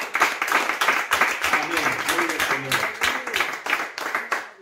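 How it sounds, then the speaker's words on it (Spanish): Applause for a child's birthday at a church gathering rises as a clattering wash of many hands clapping together, steady and fairly loud, while a voice speaks over it. "Felicitaciones al niño que está cumpliendo años. Bendito Dios te bendiga. Un aplauso para él."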